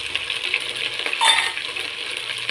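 Metal spoon scraping and clinking in a pot as a vegetable biryani mixture with slit green chillies is stirred, a steady close-up rattle of utensil against metal with a brief louder scrape in the middle.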